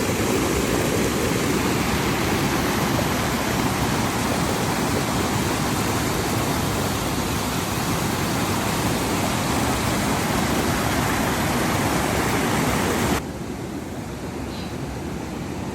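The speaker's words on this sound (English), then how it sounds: "The water is too loud." High Falls in the Adirondacks roars with a constant broadband rush of nearby falling water, loud and unbroken, then drops suddenly to a quieter level near the end.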